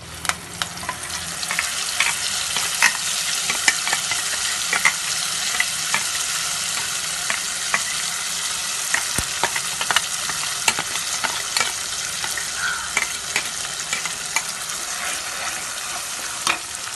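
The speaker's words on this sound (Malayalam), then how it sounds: "ഇനി നമുക്ക് മുളക് അരച്ച് വെച്ചേക്കണത് അങ്ങനെ ഇടാം" Ground chili paste for a fish curry fries loudly in a pan with curry leaves and fenugreek, giving a dense, continuous close-up sizzle with scattered sharp pops and crackles throughout and no voices.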